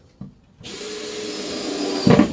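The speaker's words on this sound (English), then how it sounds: "I just stick 3 screws in it." A power drill driving screws into a plywood full-size Santa sleigh gives a short, close, steady whine that holds for about a second and a half, then ends with a brief louder grinding burst.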